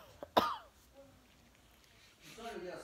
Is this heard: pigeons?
no